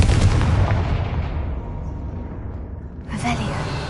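A Confringo blasting spell explodes in a Harry Potter video game with a broad, booming burst that decays into a rumbling tail, followed by a brief crackling flare near the end, loud and close.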